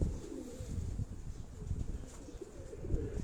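Pigeons kept by a home fancier give soft, low cooing calls in repeated throaty pulses, fairly close, over a background of strong wind.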